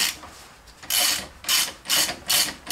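A ratchet turns a 17 mm socket, running a nut down on a Peugeot 206 strut, spring and hub carrier assembly: four close, rhythmic bursts of rapid clicking, separated by short pauses.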